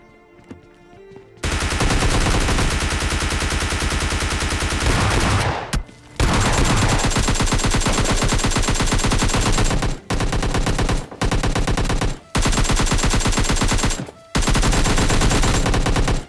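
Rapid, loud automatic gunfire in PUBG Mobile Lite rattles in long sustained bursts with a few brief pauses between them, sounding close and continuous.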